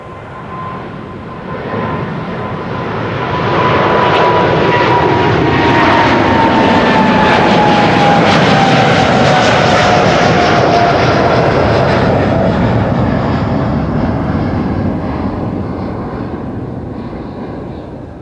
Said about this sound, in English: This is KLM Flight 605 going to San Francisco.